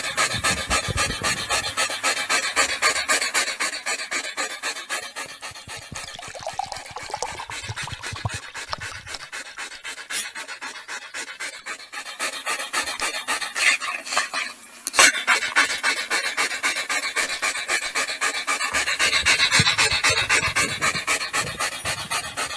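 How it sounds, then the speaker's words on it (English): A dog pants steadily in close, rhythmic breaths, with light scratchy and clinking noises mixed in throughout. "we hear the dog panting"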